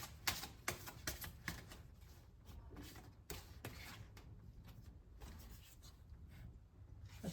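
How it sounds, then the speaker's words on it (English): A deck of oracle cards is shuffled close up, a quick series of crisp flicking riffles early on, then softer scattered rustling and taps, quiet overall. "I'm going to do one more shuffle."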